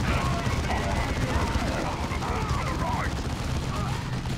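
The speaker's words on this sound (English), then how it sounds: "Let's put focus fire on." Squads in Dawn of War 2 pour focused gunfire during a boss battle, a dense continuous crackle of rifle and machine-gun fire at steady loudness, with a voice talking over it.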